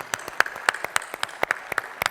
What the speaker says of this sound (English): Big round of applause to those families, gentlemen.